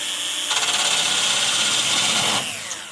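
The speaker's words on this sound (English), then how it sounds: "drilling out all of the pop welds" A power drill bores steadily through car spot welds to free a front radiator support, a loud high-pitched whine running about two seconds before winding down.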